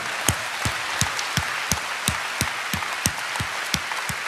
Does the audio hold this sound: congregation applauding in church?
yes